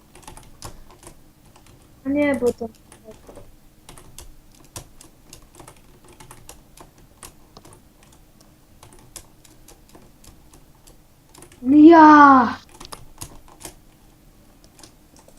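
Steady clattering of computer keys typed hard and fast throughout, with two brief voices speaking over the tapping.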